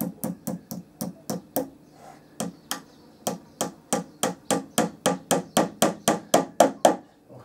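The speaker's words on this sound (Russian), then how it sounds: "И молоточком гвоздичек этот я вот так вот сюда по центру забью." A small nail is hammered into a door, about twenty sharp, evenly spaced taps in quick runs with a brief pause, close and clear, the strikes growing slightly louder toward the end.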